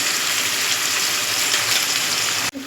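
Rinse water from a mixer jar is poured into spice paste frying in a pan for a potato and bori curry, making a loud, steady, close hiss and gush that cuts off abruptly near the end.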